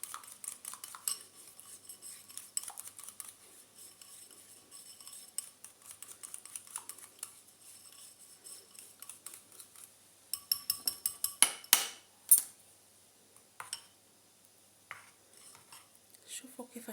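A spoon clinks and scrapes rhythmically against a bowl while a natural hair dye mixture is stirred, a quiet, close series of light metallic taps that turns into a few sharper, louder knocks near the end.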